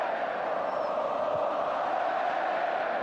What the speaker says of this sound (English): Olays now from the Barcelona supporters amongst the crowd at the Grand Stade de Tangier